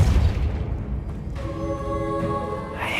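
A Depulso force spell cast in the video game Hogwarts Legacy, a low booming burst at the start followed by a ringing, tonal magical shimmer that sustains for a couple of seconds.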